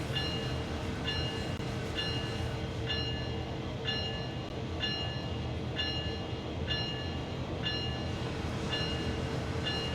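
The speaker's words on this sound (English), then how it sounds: "Yeah, these trains are definitely waiting for me." Trains in the Train Sim World 6 video game on a CN Ontario line make a steady, loud rumbling run with a regular repeating electronic beep or chime pattern above it, with no talking.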